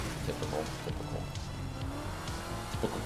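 A car in a racing video game driving with engine drone and brief tire squeals, fairly quiet and mixed with a voice talking over it.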